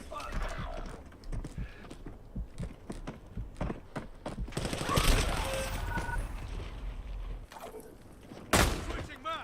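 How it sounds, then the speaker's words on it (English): Incoming gunfire in Call of Duty: Black Ops 7 crackles as rapid clattering shots under in-game voices, with a dense burst midway and a sharp crack near the end. "Incoming shots!"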